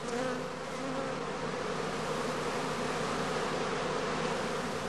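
Honeybees around a skep hive entrance during swarming season, a dense, continuous buzzing drone of many insects at steady, moderate loudness with no voices.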